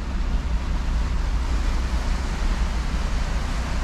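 Ocean waves roll onto the shore along a seaside promenade in a steady, loud wash of surf. The rumble is continuous and is mixed with wind buffeting the microphone.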